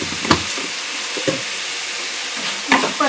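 Drumstick leaves tossed with crushed peanuts in a hot pan, a continuous soft sizzle broken by a few sharp spatula scrapes and clacks as the greens are stirred.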